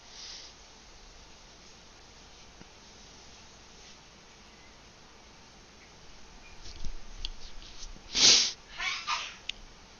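A single sneeze, short and fairly close, stands out from a quiet background with faint clicks and small rustles before and after it.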